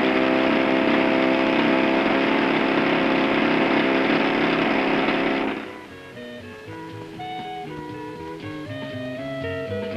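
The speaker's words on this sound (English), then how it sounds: "This 19th century hand-operated lawnmower has given way to a powered machine equivalent, which even a child can use." A powered lawn mower engine runs loud and steady with a dense droning roar, then cuts off abruptly partway through, leaving quieter background sounds.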